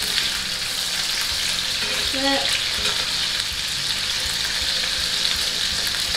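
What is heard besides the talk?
short ribs searing in a pan, being flipped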